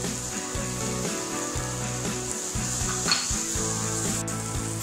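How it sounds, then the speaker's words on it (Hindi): Onions and turmeric sizzle steadily in oil in a pan, with occasional clinks of a spoon stirring against the metal and no talk. "हमें प्याज को भी अच्छा सुनहरा होने तक भूनना है।"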